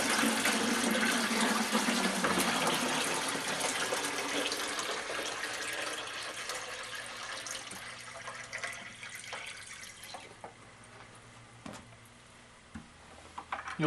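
Water poured from a bucket into a groundwater simulation model, a broad rushing splash that starts loud and gradually thins into quieter trickling and occasional drips as the pour tapers, with no talk.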